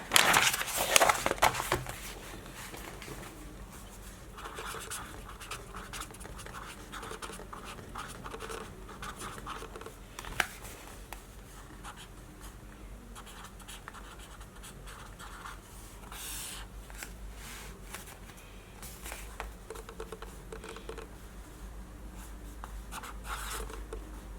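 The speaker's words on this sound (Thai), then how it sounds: "เดี๋ยวเขียนใน เล่มนี้เลยแล้วกันนะคะ" Pen on paper, writing by hand in a book: a close, quiet scratching and rubbing that runs continuously with small pauses and a few louder strokes, with no voice over it.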